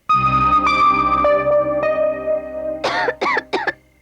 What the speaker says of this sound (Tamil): பாத்தியா இருமுது